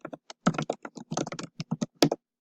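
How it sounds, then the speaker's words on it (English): Fingers tap a computer keyboard, typing a quotation into a journal: a close, crisp run of irregular clicks and short bursts of keystrokes with small gaps between them. "And I'm going to type that in."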